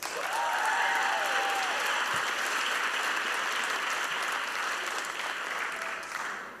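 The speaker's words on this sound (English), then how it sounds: "Another round of applause for Dan" An audience at a live storytelling show bursts into sustained, close applause that holds at full strength for several seconds, with a few whoops early on, then begins to thin at the end.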